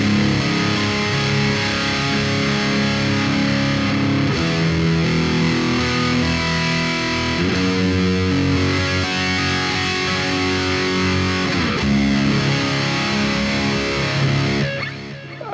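A heavily distorted custom-built electric guitar plays sustained, chunky chords and notes with a modern tone. The tone is thick, saturated and loud, with no voices.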